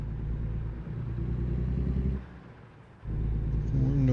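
Old Peterbilt day cab hauling a B-double flatbed in American Truck Simulator on a mountain drive: a steady low diesel rumble that dips briefly mid-clip, then returns with a rising note near the end.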